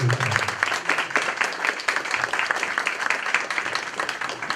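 Sustained audience applause at a community candidates' forum, dense steady clapping filling the whole stretch with no speech over it.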